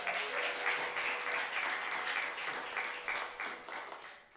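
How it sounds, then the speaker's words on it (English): A church congregation applauds its volunteers in the sanctuary, a continuous patter of many hands clapping, fairly soft and distant, tapering slightly near the end. "Let's hear a round of applause for all of them."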